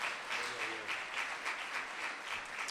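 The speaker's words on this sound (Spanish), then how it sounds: "Aplauda fuerte al Señor en esta tarde" A church congregation applauding during a Spanish-language sermon, a moderately distant, rhythmic wash of clapping that holds steady throughout, with faint voices mixed underneath.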